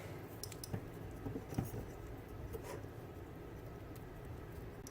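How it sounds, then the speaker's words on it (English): Electrical tape is pulled and pressed down over a drone ESC on a MonsterQuads XR225 quadcopter frame. It makes faint, brief rustling and sticky rubbing sounds close by, in a quiet room with no speech. "I'll go ahead and get some electrical tape and tape it down"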